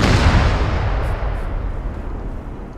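In a video game, three C-12 explosive charges detonate as one massive, loud, sustained roar of blast and rumble that slowly decays.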